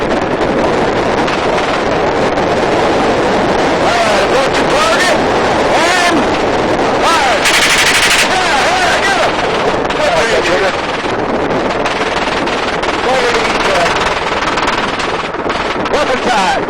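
A gunship helicopter's machine gun fires in a Las Vegas shooting experience, sustained loud bursts of automatic fire over heavy rotor and wind roar, with voices talking through the noise.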